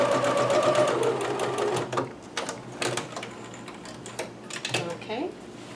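A sewing machine joining kimono pieces whirs briefly for about two seconds before stopping. Scattered clicks and taps of handling and fabric adjustment follow at close range.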